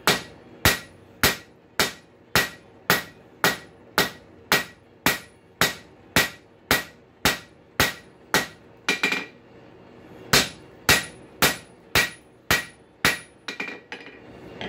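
Hammer striking a hot rail spike on an anvil while forging it into blacksmith tongs: loud, evenly spaced ringing blows at a steady rhythm, a brief pause, then another run of strikes.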